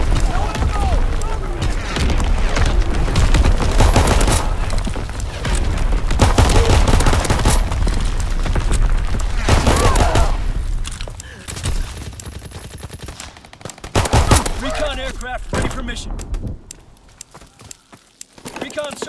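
Artillery battery firing in a video game: dense volleys of booming shots and rattling fire dominate the first half, then thin out into scattered blasts, with game voice announcements spoken over the action.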